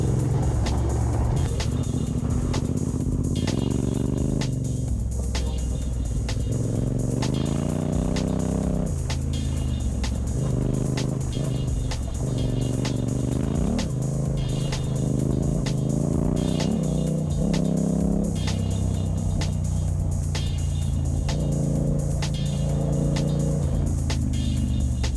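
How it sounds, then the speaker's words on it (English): An adventure motorcycle ridden on a bush trail, its engine droning and rumbling steadily throughout with shifting pitch, along with a persistent rattling noise from the bike. "the noise coming from my bike got so annoying I had to pull over and check it out"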